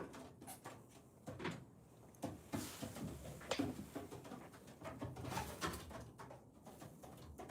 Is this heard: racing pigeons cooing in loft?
yes